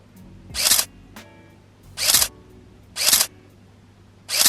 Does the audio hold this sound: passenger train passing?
no